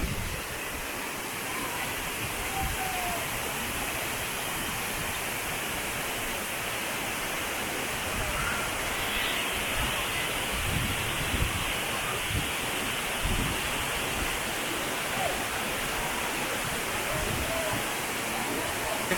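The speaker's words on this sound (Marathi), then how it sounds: "आपण आता बघतोय कोकणातील सुप्रसिद्ध व्याघ्रेश्वर धबधबा" A powerful waterfall, Vyaghreshwar falls in Konkan, roars steadily and loudly, a dense unbroken rush of falling water close by.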